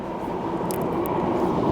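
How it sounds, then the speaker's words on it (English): A train rumbles past in Miami, a steady low rolling roar with a couple of faint high squeals of wheels on rails, heard from a short distance. "there's a freaking train going every 2 seconds"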